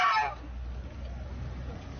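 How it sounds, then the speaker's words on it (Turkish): A year-and-a-half-old pet goose in Trabzon gives one short, loud honk at the very start, followed by low background noise. "Aslında o kaz torununa hediyeydi ama 61 yaşındaki Hatice Özkan sahiplendi"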